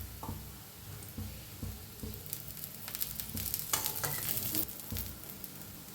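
Dosa batter roasting on a hot griddle over a full gas flame, turning crisp, gives a steady close sizzle with occasional scraping and spatula clicks; no talking.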